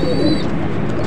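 Racing pigeons coo softly and steadily close by, a low murmuring call over faint background noise.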